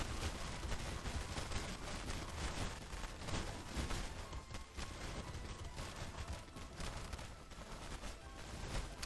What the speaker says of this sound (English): Granted, Icicle Barrage is sick.